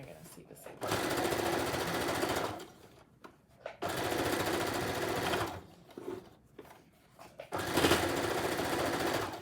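A sewing machine stitches a fabric face mask with a pocket for a filter, running in three loud bursts separated by brief pauses.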